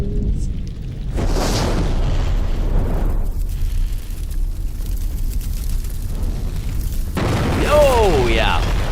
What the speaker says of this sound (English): at least we get a good explosion here in a moment, I'm sure.